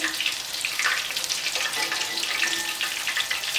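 Buffalo chicken pieces frying in hot oil, a close, continuous crackling sizzle with no talk over it.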